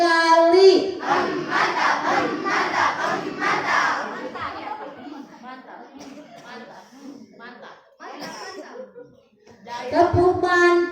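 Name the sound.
crowd doing rhythmic clapping chant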